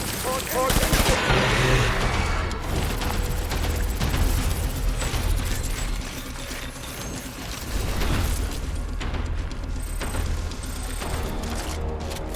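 Gunfire rattles through a combat scene in the video game Death Stranding: loud, rapid automatic bursts with mechanical clicks and clatter, easing off briefly midway before picking up again.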